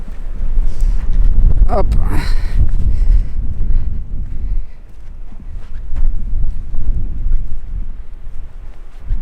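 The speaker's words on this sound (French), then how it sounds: "Il y a encore un sacré vent." Strong wind buffets the microphone on the coastal dunes at Biville, near a former firing range, a steady low roar with gusts under a man's intermittent speech.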